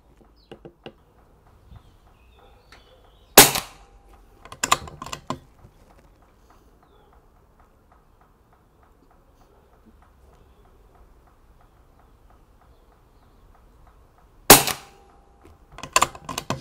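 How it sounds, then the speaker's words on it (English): Sharp rifle gunshots with a muzzle device fitted on the barrel, outdoors: a loud report near the start followed by two closer cracks, a quiet gap, then another loud shot and further cracks near the end, each with a short tail. "I'm going to fit it to the end of the gun. We're going to take another two shots"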